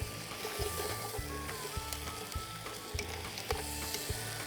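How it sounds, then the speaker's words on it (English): Oil sizzles and crackles steadily in a pot as roast vegetables fry, close up, with occasional stirring clinks and no talking. "I can hear them sizzling."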